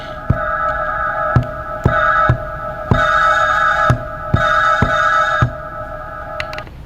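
A sampled loop plays on an MPC drum machine with its filter closed entirely, giving muffled sustained tones and sharp rhythmic hits in repeating blocks.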